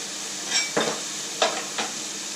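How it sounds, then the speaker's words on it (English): Onions and peppers dry frying in a pan with no oil, a low hiss broken by several short stirring scrapes and light clinks, close and fairly quiet. "we're going to dry fry this for another maybe 3-4 minutes"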